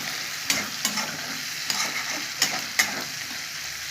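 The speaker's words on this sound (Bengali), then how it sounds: "লাল লাল করে আমি পেঁয়াজটা ভেজে নেবো" Sliced onions fry in hot oil in a pan until reddened, a steady close sizzle with sharp scrapes of a spatula stirring every second or so, no voices over it.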